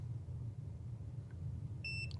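A function generator gives a single short, faint electronic beep near the end, a thin tone over a steady low hum.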